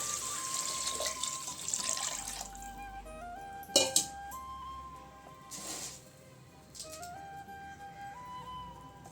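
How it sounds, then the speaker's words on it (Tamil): Water runs steadily into a cooking pot of sautéed spices for Ramadan nonbu kanji, with a gurgling, rising pitch as it fills, plus a couple of clanks partway through; no one speaks. "ஒரு அஞ்சு டம்ளர் தண்ணி ஊற்றிக்கலாம்"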